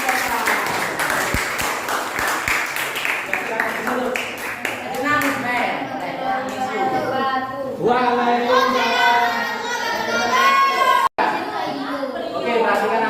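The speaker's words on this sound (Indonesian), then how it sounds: "Berikan tepuk tangan yang meriah." Classroom of seventh-grade students at a junior high school breaking into loud applause and cheering, dense clapping mixed with excited children's voices and chatter throughout.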